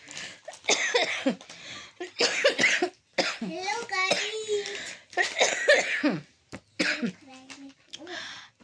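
Coughing mixed with a voice and other speech, with bursts of coughing and throat clearing spread across the stretch, close and fairly loud amid the talk.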